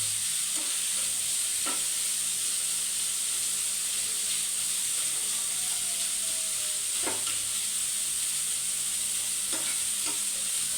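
Fish fries in a pan with a constant sizzling hiss while a spatula scrapes and stirs it at irregular intervals, sharp clinks standing out above the frying.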